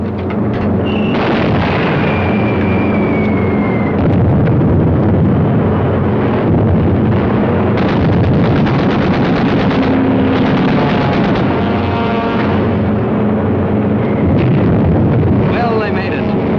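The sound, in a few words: 600-pound TNT bombs exploding in a wartime film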